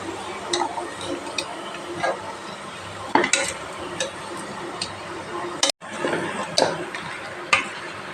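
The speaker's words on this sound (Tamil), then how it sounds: "இப்போ உப்பு சேர்த்து நம்ம கலந்து விட்டுடலாம்" Goat head meat curry being stirred with salt in a pan in village-style cooking, with intermittent scraping strokes and clinks over a soft sizzle, close by.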